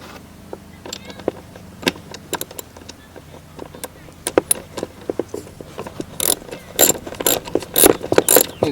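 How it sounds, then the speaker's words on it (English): Ratchet tightening passenger peg bolts on a dirt bike, scattered metallic clicks and taps building into quicker bursts of ratcheting toward the end, close and moderately loud. "use the ratchet, tighten it up"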